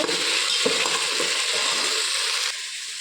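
Spice masala with ginger-garlic paste and salt frying in a pan for pulao, a loud continuous sizzle with light scraping stir sounds, briefly changing in tone near the end; no talk.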